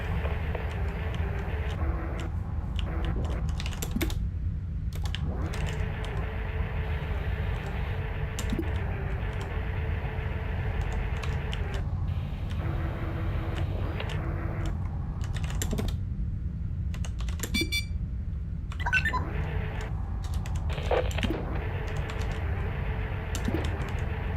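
Rapid bursts of typing on a computer keyboard, irregular clusters of clicks with short pauses, over a steady low background hum.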